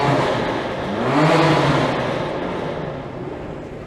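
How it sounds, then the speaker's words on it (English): A BMW revs on an upscale city street, the engine swelling in a loud rising surge about a second in, then easing back into a steady nearby drone. "Here's that Beamer we heard revving."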